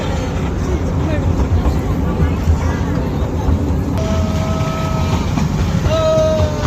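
A train rolling past a railway level-crossing gate, loud and close with continuous rumbling clatter and horn-like tones, surrounded by crowd chatter and voices.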